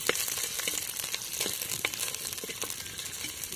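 Vegetables sauté in hot oil for an okra curry, a continuous close sizzle broken by soft stirring scrapes, with no talking.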